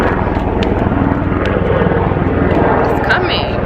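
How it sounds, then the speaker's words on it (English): A helicopter drones loudly overhead, a constant low rumble with rhythmic rotor pulsing that holds steady throughout. "I hear this helicopter"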